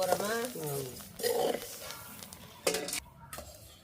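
Coriander seeds roasting in a pan are stirred with a ladle, giving scraping, rattling strokes in short bursts while a woman and another person talk over them.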